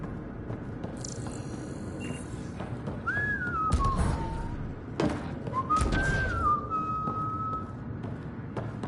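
Whistling in the Mass Effect Andromeda video game, heard as two short melodic whistled phrases rising and falling over a low rumbling ambience with a few dull thumps.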